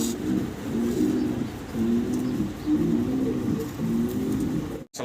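Fancy pigeons coo repeatedly nearby in low, rolling phrases, one after another in a steady rhythm, with faint background noise.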